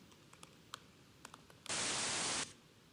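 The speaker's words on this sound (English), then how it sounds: "So let's check the pink noise." A short burst of pink noise plays as an audio demonstration. It is a steady, loud hiss lasting under a second, preceded by a few faint clicks in a quiet room.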